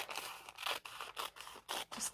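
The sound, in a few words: scissors cutting a brown paper bag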